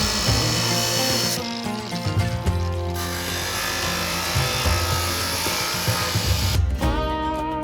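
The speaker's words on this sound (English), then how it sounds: "you can take a lot of plastic off pretty quick with this sander" A power sander grinds plastic off a Chevy Colorado bumper with a loud, continuous whirring rasp that shifts in pitch as pressure changes, close by and alone.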